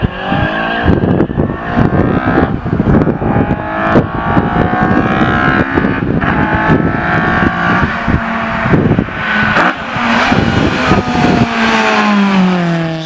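A Mark 1 car with a VVL engine swap and street tires accelerating hard on a timed run. The loud engine roars and rises steadily in pitch through repeated gear changes, with possible tire chatter and no talking.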